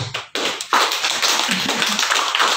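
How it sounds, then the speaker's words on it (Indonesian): An audience claps after a medical talk on pain relief for cancer patients, a dense patter of hands that starts abruptly, pauses briefly, then continues steadily and close. "Boleh tepuk tangan."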